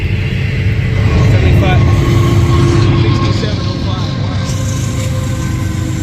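A Union Pacific manifest train passes with a locomotive running mid-train. A loud, continuous rumble of rail wheels and engine fills the whole stretch, with a person talking over it.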